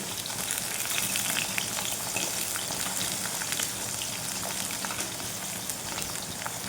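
Pumpkin pieces frying in hot oil for a mashed pumpkin bharta, a dense, even crackling sizzle close by, continuous throughout with no talking.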